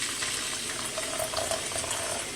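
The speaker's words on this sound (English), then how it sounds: "pour in the coffee, and we're going to pour it in right to the bottom of those letterings." Hot coffee poured from a pot into cups for a homemade iced vanilla latte, a steady close liquid stream with a faint rising gurgle, no talking.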